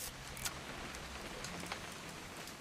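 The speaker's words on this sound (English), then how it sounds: "It's gonna rain the whole weekend, isn't it?" Rain falls in the video game What Remains of Edith Finch, a dense, steady patter on surfaces with a few sharper drops standing out, moderate in level and without speech.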